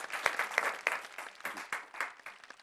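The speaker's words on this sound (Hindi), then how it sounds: "लेकिन टिपिकल जगत्यालवी के लिए जरा हम जोरदार तालियां बजाएं।" An audience at a televised poetry show bursts into brisk, full applause, many hands clapping close together in a dense rattling wash that swells and eases without a break.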